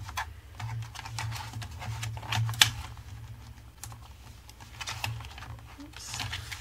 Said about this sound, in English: Back to our paper trimmer.